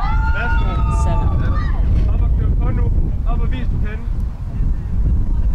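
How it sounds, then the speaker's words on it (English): Strong wind buffets the microphone at an outdoor archery field during a U21 compound men's gold final, a steady roaring rumble throughout with a commentator talking over it. "the wind is really, really picking up"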